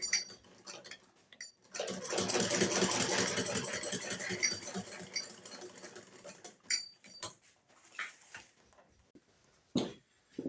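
A sewing machine stitches a handmade bushcraft bag in a steady run of mechanical whirring for several seconds, then stops and gives way to scattered clicks, fabric handling and a few sharp knocks.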